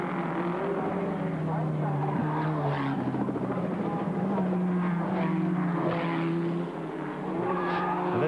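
Formula Ford race cars in a 1991 Saturday race at Bathurst, a pack running in a tight train around the track with continuous droning engines rising and falling, heard under a race commentator's steady talk.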